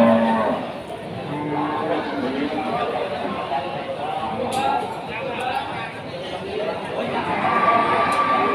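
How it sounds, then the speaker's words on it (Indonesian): Peacock and Limousin cattle moo repeatedly at a cattle market in Pati, Indonesia, amid a busy, noisy crowd with people chattering throughout, the lowing rising and falling under the din. "Sapi Peacock."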